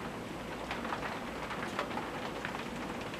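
Steady rain falls outside, a dense, even broadband patter heard up close beside a 42-inch brass ceiling fan with white blades running on high.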